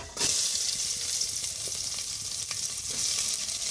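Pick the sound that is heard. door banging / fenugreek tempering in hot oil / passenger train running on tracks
fenugreek tempering in hot oil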